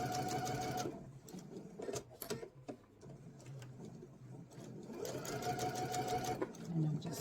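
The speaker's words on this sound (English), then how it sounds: "And I'm just going to sew across." A sewing machine stitches straight across the fabric of a Bali bowl, running in two steady mechanical bursts near the start and end with a quieter pause of handling noises between them.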